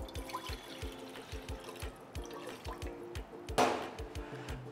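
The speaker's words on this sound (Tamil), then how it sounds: "ஃபஸ்ட்டு கொஞ்சம் தண்ணியை சேர்த்துக்குவோம்" Water pours steadily into a pressure cooker for aviyal with a soft gurgling trickle, over a low rhythmic mechanical hum.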